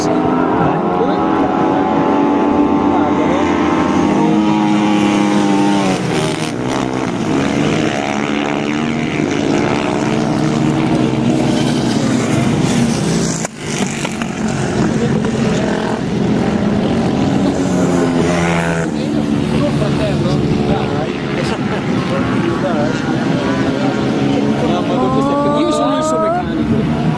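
Flat track motorcycles racing at an Italian championship round in Treviso, engines droning loudly and continuously as bikes pass, with people talking over the noise.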